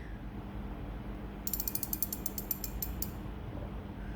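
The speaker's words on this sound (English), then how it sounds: "It's got a nice drag clicker, pretty loud and audible" A Shimano Twin Power spinning reel's drag clicker ratchets out a quick run of crisp, rapid clicks for about a second and a half over faint background hiss.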